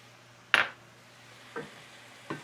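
Siopao filling of meat with soy sauce, black pepper and sugar is stirred in a quiet pan, heard as three separate scraping strokes, the first the loudest, over a low hum, with no talk.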